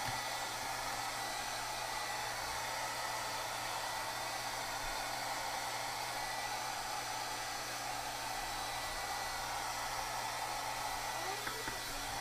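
A heat gun blows hot air in a steady, loud, unbroken roar that runs throughout without pause.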